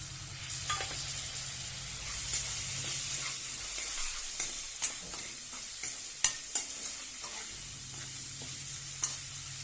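Potato sautéing in a pan for methi pulav, a soft steady sizzle broken by occasional spatula clinks and stirring knocks, close and fairly quiet with no voices.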